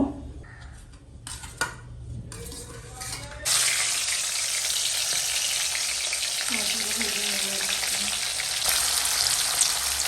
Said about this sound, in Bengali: এবার খোলাতে আমি তেল গরম করে নিয়েছি তো এবার এক এক করে মাছগুলো ভেজে নিব